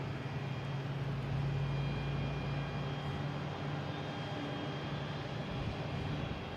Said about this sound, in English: Right next to arrive, we have United Airlines. Coming in from Denver,